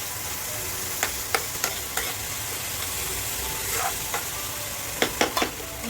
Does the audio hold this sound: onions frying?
yes